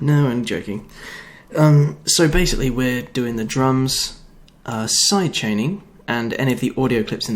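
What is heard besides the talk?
No everyday noise stands out behind the speech.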